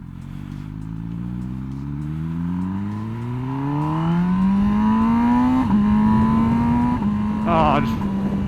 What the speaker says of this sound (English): let's go ahead and start it up